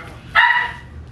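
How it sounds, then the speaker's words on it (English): A single dog's bark bursts out briefly and fairly close, then fades, heard in a home setting. "Dogs right on time"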